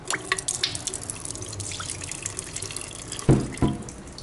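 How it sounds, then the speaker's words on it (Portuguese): Water dripping from a Ford Focus thermostat valve under test, with scattered small splashy drips and trickles, then two louder drops near the end, close and without talking. "Um leve pingo."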